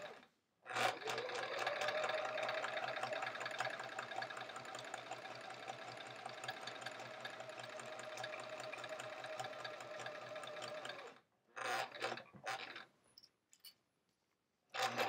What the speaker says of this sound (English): I'm sewing now, so we're doing the 3.